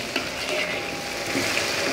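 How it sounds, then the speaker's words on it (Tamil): Curry leaves sautéing in hot oil in a pan for Malaysian-style fish curry, a steady close sizzle and crackle running evenly throughout with no voices. "போட்டு நல்லா எண்ணெயோடு வதக்கிக்குங்க"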